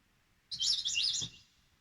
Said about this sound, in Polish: To niby jest ptak.